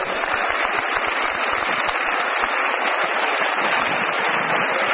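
Dense, steady applause from an audience at a talk, a continuous crackle of many hands clapping throughout, loud and even with no speech over it.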